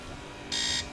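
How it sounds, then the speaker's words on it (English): An alarm going off in the middle of the day, a loud steady high-pitched electronic tone that starts halfway through and holds for a few tenths of a second over a low background hum. "my alarm keeps going off in the middle of the day"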